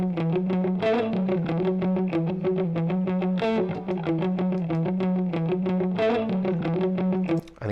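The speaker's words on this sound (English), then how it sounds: "This is something called Chicken Pick Guitar." A funk guitar is played with the muted, percussive chicken-pick technique, giving a tight, steady, looped rhythm of choppy clipped strums and scratches throughout, loud and close with no voices.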